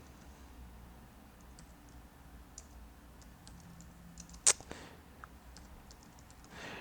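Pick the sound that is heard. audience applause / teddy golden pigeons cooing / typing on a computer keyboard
typing on a computer keyboard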